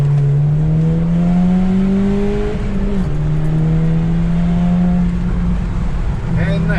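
A Volkswagen Golf V GTI accelerates hard from inside the cabin, its loud engine tone climbing steadily, dipping at a gear change and climbing again, with a voice speaking over it.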